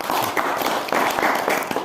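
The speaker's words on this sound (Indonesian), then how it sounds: "Tepuk tangan saya Pak." Audience applause at a provincial agriculture office speech in Central Java, a short burst of many hands clapping at a brisk uneven rhythm, fairly close and steady throughout.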